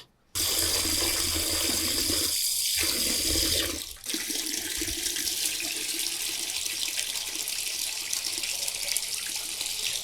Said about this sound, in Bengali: বাস এগুলো এখন একটু ভালো করে ধুয়ে রোদ দিয়ে দিব